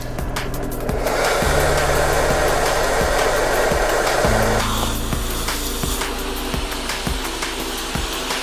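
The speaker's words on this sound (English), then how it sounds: "now I'm going to turn the engine on, increase the revs to facilitate the inflation of the air jack" A car engine with a hose over its exhaust inflating an air jack gives a steady motor drone with a rhythmic low thumping, loud and continuous, changing pitch partway through as the revs rise and then settle.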